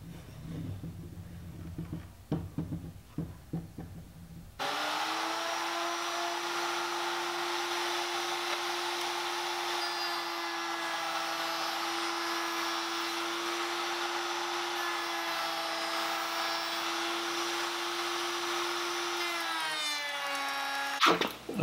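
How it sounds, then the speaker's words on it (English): A router climb-cuts shallow passes into wooden parts for a tenon, starting with a few light knocks and then whining loud and steady for about seventeen seconds close by before spinning down. "I climb cut it first, but I'm not going to full depth"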